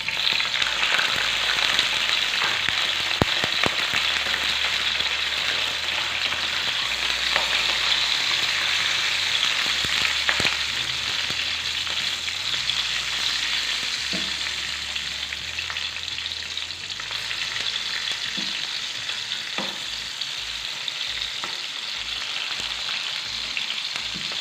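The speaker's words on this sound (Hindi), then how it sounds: "उसमें थोड़ा सा ऑयल ले लेंगे और जैसे ही ऑयल गर्म हो जाएगा इसमें हम शामिल कर देंगे मिर्चें और उनको जस्ट हम फ्राई कर लेंगे" Green chillies fry in hot oil in a pan, giving a loud, steady crackling sizzle that goes on without a break, heard close up with no talking.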